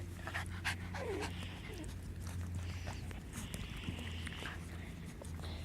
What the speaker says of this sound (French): Ce chien m'adore. Il me lèche les oreilles.